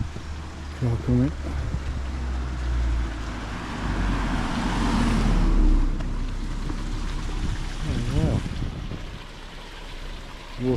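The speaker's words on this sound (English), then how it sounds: "Car coming." A car climbs toward the listener on a steep residential street in Harlech, North Wales, its engine swelling to a peak midway and then fading, with someone speaking briefly at the start and again near the end.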